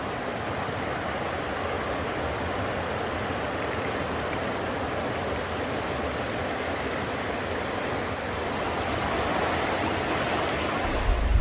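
Water gushes steadily out of a hose pipe near the Kamianka waterfall, a loud continuous rushing hiss with no pauses, swelling slightly louder at the very end.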